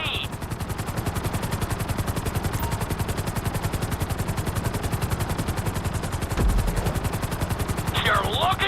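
Helicopter flying in GTA 5, a steady rapid rotor chop throbbing loud and close throughout, with brief electronic tones near the start and end.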